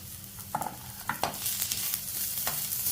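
A large green chili sizzles steadily in a hot pan, with a few scraping stirs of a utensil near the start; no voices.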